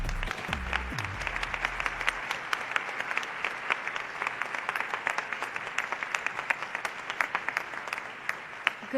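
An audience at an International Women's Day event breaks into steady, sustained applause that fills the whole stretch at an even level, with a brief low hum at the very start.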